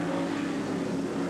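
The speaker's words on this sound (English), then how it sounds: "The Camaros are coming." Camaro race cars approach on a racetrack during a 1981 IMSA Kelly American Challenge race at Pocono, heard as a dense, steady engine roar that stays loud throughout, with no talk.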